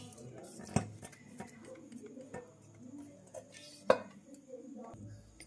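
A spoon mixes fenugreek leaf chutney in a serving bowl, giving soft scraping and stirring sounds with two sharper clinks against the bowl, quiet and close.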